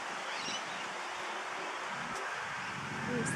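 Wind blowing around a walnut tree where sulphur-crested cockatoos perch, a steady broadband rushing hiss with faint rustling throughout and a slight swell at the end.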